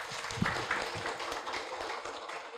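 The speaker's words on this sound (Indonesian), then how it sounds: "Kita kasih tepuk tangan dulu untuk Pak Muhari" Audience applause at a community health talk show in Pulomerak, Cilegon, heard as a dense, steady wash of many hands clapping from a moderately distant crowd, fairly even throughout.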